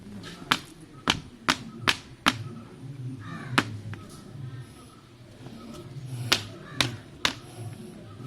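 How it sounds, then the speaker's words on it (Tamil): Sharp taps from a car AC filter being knocked to shake dust loose, a quick run of about five knocks followed by three or four more, close by, over a low background hum. "அதெல்லாம் ஒன்று தட்டி களையலாம்."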